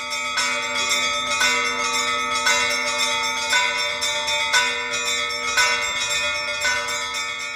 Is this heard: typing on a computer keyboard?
no